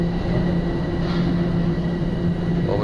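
A subway train rumbles past close by with a steady mechanical roar and a sustained tonal hum from its running gear, continuous over the few seconds without speech.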